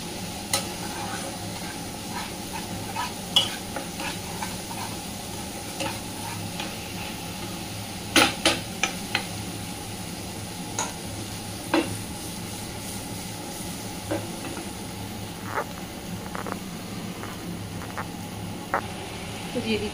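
Cumin powder and other ground spices stirred in a pan, with scattered light scraping taps of the spoon over a soft, steady sizzle at moderate distance.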